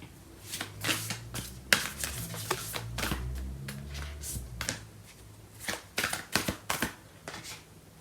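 Tarot cards being shuffled and handled, with a string of crisp papery riffles and taps in irregular bursts, close and fairly quiet, with no talking.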